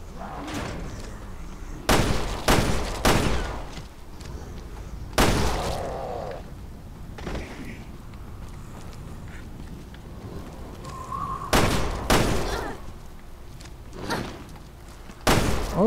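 Gunfire in the survival-horror game Resident Evil Revelations 2: several sharp, loud shots in short bursts, separated by quieter stretches of ambient game noise.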